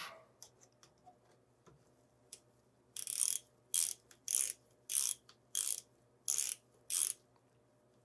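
A ratchet driving a T25 Torx bit on a RockShox Pike C1 fork damper gives eight quick, even bursts of close metallic clicking after a quiet start, with no talk.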